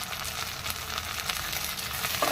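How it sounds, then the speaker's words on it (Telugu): Onions and green chillies frying in oil in a pan for mutton curry, a steady soft crackling sizzle with faint spattering pops, close and fairly quiet, with no voices. "పచ్చిమిర్చి, ఒక 4-5 పచ్చిమిరపకాయలను, ఉల్లిపాయలు కూడా వేసి వేయించేసుకున్నాం"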